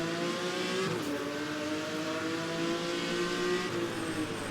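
The Jaguar XJ13, a 1960s V12 race car that struggles for speed, drones steadily at a loud, sustained engine note, shifting pitch as it revs and passes nearby.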